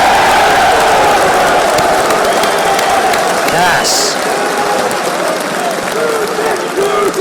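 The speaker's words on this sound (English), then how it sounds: "can we give a round of applause for Russia?" Loud audience applause with some cheering at a Halloween show, filling the hall steadily for several seconds while a speaker's voice carries over it.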